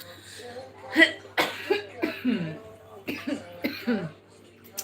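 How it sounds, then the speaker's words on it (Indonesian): A woman coughs repeatedly in a Makassar hotel room, a series of short harsh coughs and throat-clearing bursts, close and fairly loud, with no other sound around them. "lagi musim batuk di sini guys"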